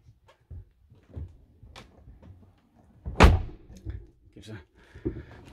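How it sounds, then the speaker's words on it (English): The door of a Mercedes-based Carthago C Tourer i150QB integrated motorhome shuts with one solid, close thunk in the middle of the clip, with quiet handling noises before and after and someone speaking softly nearby. "I'm going to close the door here."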